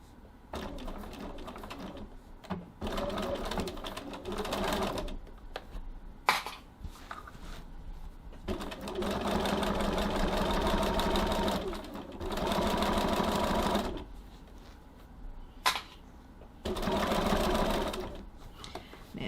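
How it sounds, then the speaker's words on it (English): Sewing machine stitching a tote bag with a 1 cm seam allowance and 2.6 stitch length, running in several close, steady bursts of rapid whirring separated by short pauses. "I'm stitching with a seam allowance of 1 centimetre, 3/8 of an inch"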